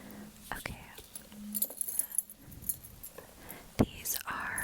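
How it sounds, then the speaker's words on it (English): A bunch of keys jangles softly in a whispered ASMR setting, giving a few light metallic clinks and rattles in short bursts, close to the microphone and alone without talk. "These are my keys."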